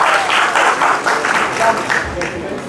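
An audience at a song launch event applauds for Khushi Kapoor, a dense, loud burst of clapping from a crowd that rises and falls in waves, with a voice speaking over it.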